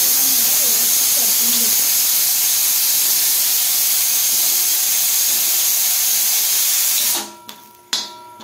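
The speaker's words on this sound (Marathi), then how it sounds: "थोडं जिरं टाकायचं आहे यात" Cumin seeds crackle and sizzle in hot oil in a pan while Kharda chicken is cooked, giving a steady, loud, hissing fry that runs unbroken and then cuts off abruptly near the end.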